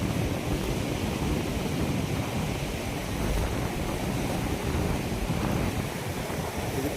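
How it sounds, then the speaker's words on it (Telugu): Himalayan mountain stream rushing near the village of Hilsa, a steady broadband roar of flowing water with no break, constant and fairly close, with no voices. "ఇది పైన హిమాలయాల నుంచి వాటర్ వస్తూనే ఉందన్నమాట."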